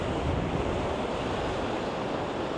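Loud, continuous wind buffeting the microphone on Ireland's Wild Atlantic Way coast, a broad steady roar with no voices.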